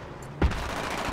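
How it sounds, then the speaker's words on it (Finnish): Gunfire in Battlefield 3 on the Caspian Border conquest map: a sudden loud burst of shots close by, then steady rattling fire that carries on to the end. "kun joku rupes ampuu yhtäkkiä mun vieressä"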